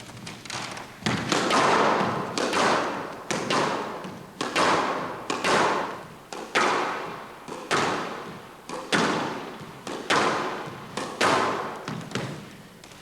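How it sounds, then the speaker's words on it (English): An object struck hard against a wall again and again, each blow a loud close thud that fades off, about one every second and a half in a steady rhythm, with no talk. "Just giving it a few hard hits against the wall for a few minutes"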